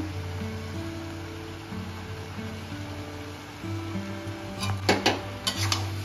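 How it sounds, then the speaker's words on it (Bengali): Jaggery being stirred into a pot of vegetarian pachan makes a few clinking spoon-on-metal knocks near the end over a steady low background hum. "এখন মিশিয়ে নেব গুড়টা।"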